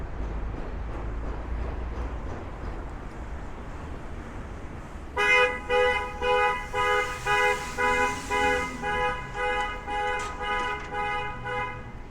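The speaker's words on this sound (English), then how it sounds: "Car alarm goes off and it's a horn." Outdoor traffic hum on a street in Red Hook, Brooklyn, then a car alarm starts blaring nearby: loud, repeated horn-like tones pulsing in a steady rhythm.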